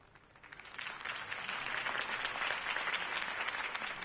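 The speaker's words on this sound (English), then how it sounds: "If only Mr. Wayne, my campaign's largest backer, could have heard that applause" A crowd bursts into applause, building quickly from a few claps into loud, sustained clapping that fills the space for several seconds.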